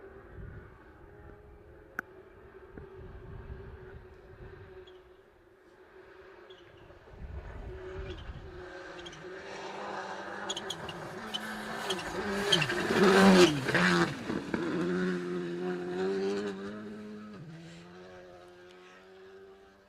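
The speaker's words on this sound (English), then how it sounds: "You hear the turbo wastegate chittering away there." A turbocharged rally car approaches and roars past on a special stage, its engine rising to a loud peak and fading away with wastegate chatter, heard from the roadside with some crowd or wind noise.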